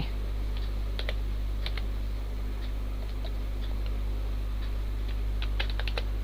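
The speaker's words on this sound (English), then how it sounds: "We wanted to type the word keyboard." Someone types on a computer keyboard, producing scattered, uneven clusters of crisp key clicks over a steady low electrical hum, with no speech.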